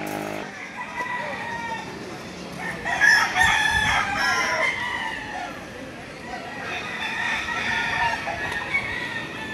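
Several tethered Brown Red gamefowl roosters crow at intervals, some near and some farther off, over steady background noise and people talking.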